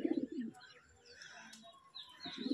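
Kalshira and Fulshira breed pigeons cooing nearby, a rolling low coo at the start and again at the end, with faint chirps and rustling in between.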